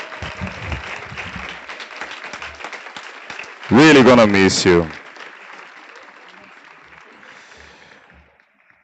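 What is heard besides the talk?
audience applause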